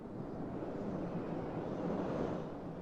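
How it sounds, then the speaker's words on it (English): Wind ambience from a Halo 2 mod swells into a broad, steady rush, with a soft gust building toward the end and no other sounds. "That was a massive gust of wind."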